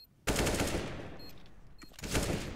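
AK rifle gunfire in a CS:GO match on Mirage: a loud, close burst of rapid automatic shots, a short break, then a second burst.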